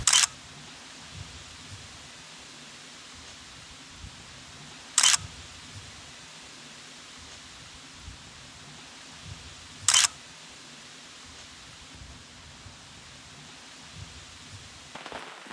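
A camera shutter clicks sharply three times at even intervals beside a bridge over a remote Maine stream, over a soft, steady background of rain-like hiss.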